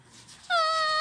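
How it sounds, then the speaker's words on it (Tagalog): A cat meows once, a clear, close, drawn-out cry that follows a stretch of quiet room hiss. "Nandun ang pusa. Nandito ang pusa."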